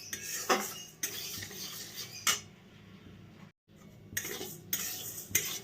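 Masoor lentils are dry-roasted in a pan and stirred, giving repeated close scraping and clinking of a utensil against metal over a faint background hiss, with a brief silent gap partway through.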